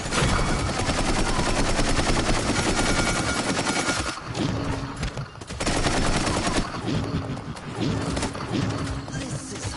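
Rapid gunfire from a character in the video game Paladins on PS4, a loud continuous stream of shots that breaks into shorter bursts with brief pauses in the second half.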